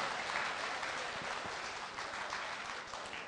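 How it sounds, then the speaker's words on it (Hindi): Sustained audience applause fills a Hindi poetry gathering (kavi sammelan) in Rewari, Haryana, a dense, steady clapping from a large crowd that stays loud throughout with no speech over it. "समझ में आ गई तो सारा सदन ताली बजाए।"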